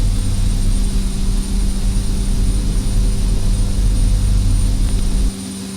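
A Carenado B200 King Air twin turboprop climbs after takeoff in X-Plane 10, a loud, steady propeller drone with a constant whine that cuts off abruptly near the end.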